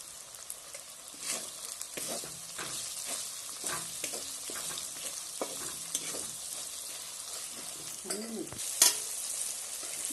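Spice masala for chicken biryani sautés in a pan with a soft, continuous sizzle. Repeated gentle stirring scrapes are heard nearby at a low level, with no talking.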